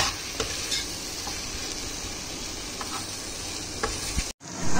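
Kitchen king masala is stirred in a frying pan over an even, dense sizzle, with occasional light spoon taps and scrapes up close and a brief dropout near the end.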